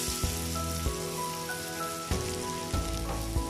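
Chopped banana sautés in butter in a pan, giving a steady crackling sizzle broken by a few sharper pops and clinks of the pan, with no talking.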